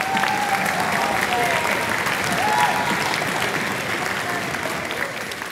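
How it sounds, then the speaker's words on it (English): Sustained applause fills a school auditorium at a middle school spring music concert, steady and fairly loud, with a few voices and whoops rising over the clapping. "one little round of applause for Logan over there on the timpani"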